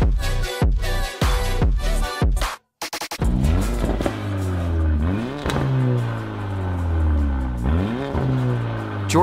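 A wrecked Mercedes GLA45 AMG engine blips sharply several times, pauses briefly, then settles into a loud, close idle with repeated revving swells and exhaust crackle.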